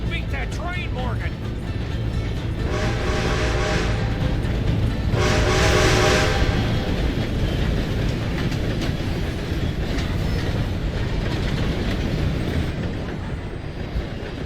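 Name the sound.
train passing in Red Dead Redemption 2 video game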